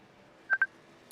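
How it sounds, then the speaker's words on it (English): Two short electronic tone beeps from an incoming Facebook phone call cut into a live broadcast, close and clear against near silence, followed by a faint higher chirp. "I'm getting a phone call on Facebook somehow"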